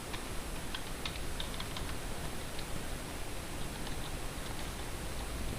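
Keys on a computer keyboard tapped at an uneven pace, quiet and close, in short clusters of light clicks over a faint steady hiss, with no voice.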